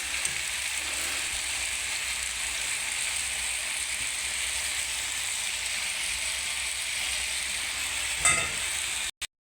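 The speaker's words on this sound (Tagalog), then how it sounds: "Lagyan na natin itong pansit canton." Pancit canton noodles frying in a pan with cabbage, a steady loud sizzle holding throughout, with a brief stirring clatter near the end before it cuts off.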